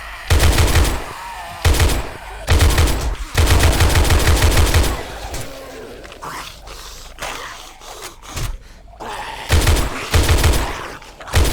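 Loud bursts of rapid rifle fire in the video game Afterlife, several sustained volleys separated by brief pauses, with quieter scraping and shuffling game sounds in between.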